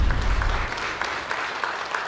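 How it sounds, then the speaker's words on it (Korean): An audience at a Korean labor day ceremony claps in applause, a dense, steady patter of many hands heard at moderate volume from a short distance. "박수 부탁드립니다."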